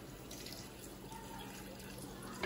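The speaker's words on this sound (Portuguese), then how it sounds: "Vou completar aqui com água, né?" Tap water runs steadily into a pot of beef shoulder being braised in beer, a soft continuous trickle and splash at close range with a small clink near the end.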